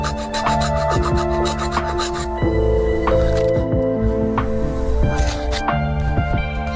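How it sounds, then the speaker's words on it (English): A metal file widens the cigarette-lighter hole in Mitsubishi car trim with quick, close, repeated rasping strokes in an uneven back-and-forth rhythm. "So I'm going to have to make the hole wider using that file there."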